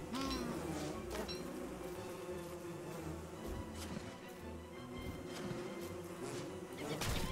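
Bees buzzing steadily in the video game Don't Starve Together, a dense continuous drone from several insects, with game music and effects running underneath throughout.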